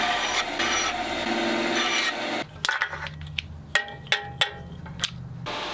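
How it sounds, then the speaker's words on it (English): A hand saw cuts wooden dowels at a workshop bench. There are a few seconds of steady, close rasping strokes, then sharp wooden taps and clunks as pieces are handled and set down, with no talking. "Now I can cut down the dowels."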